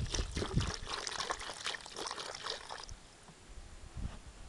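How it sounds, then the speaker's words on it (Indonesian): Water poured off soaking plant material for kebar grass, a close splashing and trickling pour for about three seconds that settles into faint dribbles and drips. "Setelah itu, kita buang airnya."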